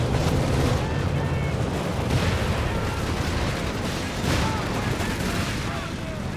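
A .30 cal machine gun fires in Company of Heroes 3 amid dense wartime battle noise, with rattling bursts and booms under continuous loud combat and a commentator talking over it.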